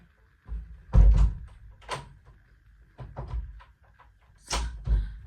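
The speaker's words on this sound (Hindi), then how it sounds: "यहाँ पे दरवाजा बंद करने में लगा हुआ है। पता नहीं इस रूम का लॉक तो क्या हो गया" A room door is pushed shut and rattled against a jammed lock, giving several heavy thuds and knocks in bursts with quiet gaps between them, close by.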